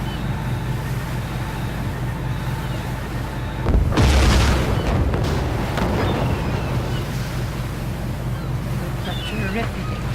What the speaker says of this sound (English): A terrific explosion. A terrific one.